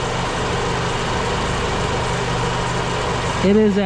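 A Honda CRX engine idles steadily during an ignition timing check, a constant low mechanical hum that holds throughout, with a brief tonal sweep near the end.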